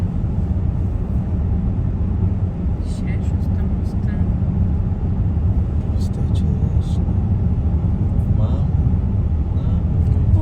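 A car drives fast along a country road, its steady rumble and road roar filling the cabin while people talk quietly over it.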